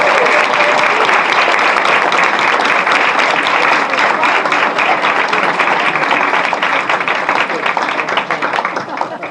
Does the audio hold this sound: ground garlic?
no